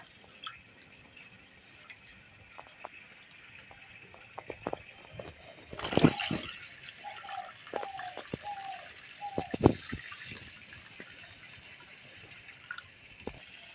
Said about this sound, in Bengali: ভালো করে 3-4 বার করে জল দিয়ে ধুয়ে নেব চালটা।